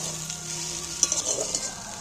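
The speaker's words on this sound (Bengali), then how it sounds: "দেখো, পেঁয়াজগুলো আমার লাল লাল করে ভাজা হয়ে গেছে।" Onions fry to a reddish brown in a pan beside okra, giving a soft, steady sizzle with a few faint crackles and pops.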